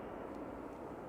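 A Ryanair airliner departing Manchester Airport for Milan produces a distant, steady engine roar in a brief, faint burst of broadband noise.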